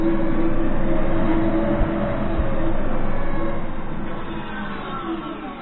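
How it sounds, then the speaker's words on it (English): An Emsiso EmDrive 500 electric motor drive runs on throttle in torque mode, giving a steady close hum with a sustained tonal whine that holds throughout and eases slightly toward the end, with no speech. "So if I pull the throttle, it already begins to run."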